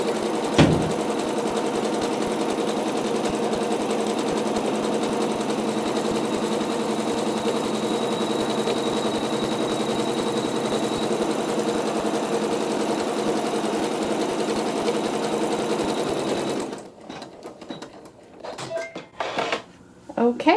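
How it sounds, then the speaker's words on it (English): A domestic sewing machine stitches out a quilt block, sewing an outline placement stitch with water-soluble thread. A steady, close motor whir runs unbroken for about seventeen seconds, then stops, leaving a few faint handling sounds. "we'll meet at the sewing machine and we'll stitch it out"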